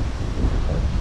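Strong wind gusts buffet the microphone under a tree at a fishing spot, a brief low rumbling rush with no voices.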